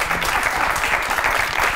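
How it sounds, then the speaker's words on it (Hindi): Steady audience applause fills the room at a Pakistani comedy show, dense and continuous with no voices over it. "वाह जी वाह। तालियां।"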